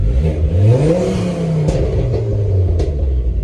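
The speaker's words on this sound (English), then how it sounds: "that is one sassy exhaust" A loud, deep exhaust on a Ford Focus ST3 rumbling close by from beneath the car, its engine revving up and easing back down in a throaty burble, with no one speaking.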